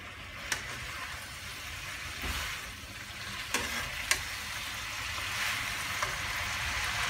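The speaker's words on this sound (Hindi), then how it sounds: "आँच तेज करके मैं इसे भून लूँगी।" Chicken being stir-fried (bhuna) in a pan over a high flame gives a steady, close sizzle and frying hiss throughout, with a few brief stirring clinks and no talking.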